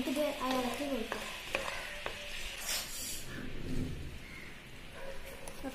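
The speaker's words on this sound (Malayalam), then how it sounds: "ഇത് മെൽറ്റായി നമുക്കിത് ഇളക്കി കൊടുക്കാം" Melting jaggery being stirred in a pan, a soft continuous scraping and bubbling with a few sharp utensil clicks against the pan, heard close up with no speech.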